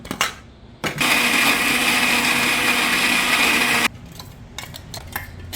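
A mixer grinder whirs loudly and steadily for about three seconds, grinding chillies into a dry spice powder for bitter gourd pickle, then cuts off, leaving faint kitchen handling noises.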